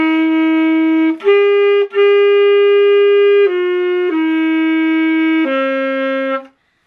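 Long, steady saxophone notes fingered as B, played loud and close in a slow sequence of held pitches with a brief break near the start, alone without any talking.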